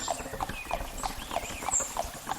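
Horse hooves clip-clop in a steady, even rhythm, about eight crisp strikes at a moderate pace, close by over a noisy background.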